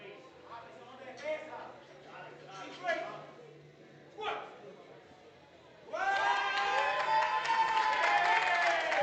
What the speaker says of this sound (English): As you can hear the support being yelled from the crowd.